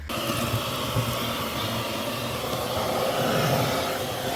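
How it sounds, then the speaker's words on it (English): A steady, loud broadband whirring drone runs continuously without pause, like a vacuum cleaner motor running close by, vacuuming fallen sound-deadening material inside a junkyard BMW. "I got to vacuum and clean all this stuff up."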